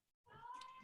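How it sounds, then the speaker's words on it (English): A house cat meows insistently right near the microphone after a brief silence, its cry steady and close, wanting to be let into a room. "My cat is desperate to get into the room."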